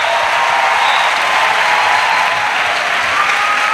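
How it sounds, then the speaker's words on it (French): Loud, steady applause from a church congregation during a sermon on pastoral ministry, dense clapping with some crowd noise held at an even level throughout. "Acclamation"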